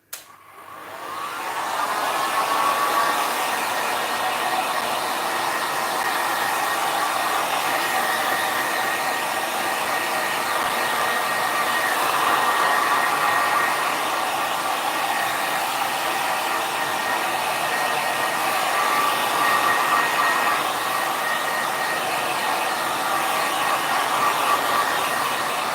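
A hair dryer blows steadily for about twenty-five seconds, switching on abruptly and then holding a loud, even whooshing roar with a faint whine, close by and alone without speech.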